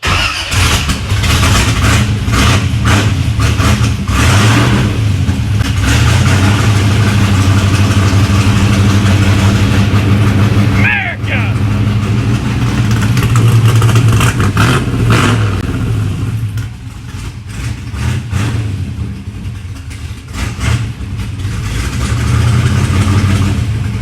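A high-revving 327 small-block Chevy V8 in the Misfit Split runs loud and close, its rough, lumpy idle blipped into sharp revs, with a brief dip in level partway through before rumbling on.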